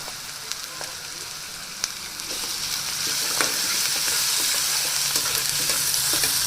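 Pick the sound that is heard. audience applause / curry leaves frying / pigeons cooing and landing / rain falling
curry leaves frying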